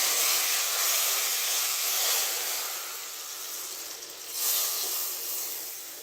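Tempering for dhaba-style dal sizzles and hisses steadily in the pot, a broad sustained crackle that dips briefly then surges again, with no voices.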